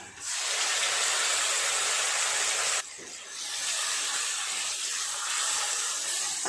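Ginger, garlic and tomato paste hits a hot pan of fried onions with a loud, steady hiss and sizzle, briefly dipping then continuing strongly, with no talk over it.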